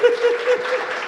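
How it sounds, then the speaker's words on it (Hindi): An audience at a Hindi comedy poetry gathering claps in a brief burst while a sung or chanted line carries over the top. "ऐसा काम नहीं चलेगा, ताली बजानी पड़ेगी।"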